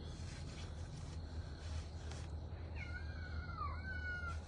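A pet cat named Alucard meows once, a drawn-out, falling cry heard fairly close against a low background hum, with no speech over it.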